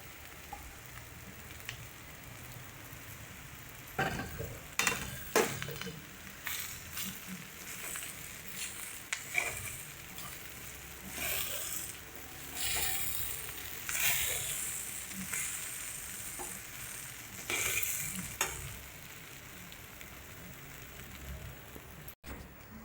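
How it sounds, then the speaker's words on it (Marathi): Soaked, washed poha (flattened rice) is stirred and sautéed in a pan for a simple Maharashtrian breakfast, giving a soft, patchy sizzle with scattered scraping bursts, close by and fairly quiet, no talking. "त्याच्यात आता पोहे घालू. ते 2 वेळा स्वच्छ धुवून पोहे भिजत ठेवले होते. मस्त आता ते त्याच्यात परतून घेऊ."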